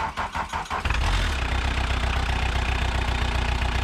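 A barn-find VW Jetta MK2 turbo diesel cranks briefly and fires up, settling into a loud, steady, clattering diesel idle close by.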